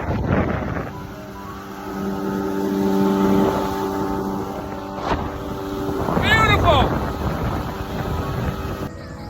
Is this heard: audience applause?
no